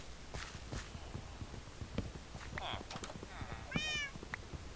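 A Minecraft cat gives a few short, high meows over soft, regular footstep clicks from the game, the calls rising clearly above the quiet, steady background.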